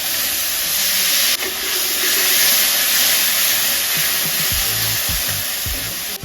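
Water poured onto hot poppy seed and green chilli paste in a pan sends up a loud, steady steaming hiss that fills the whole stretch, with a few low knocks near the end.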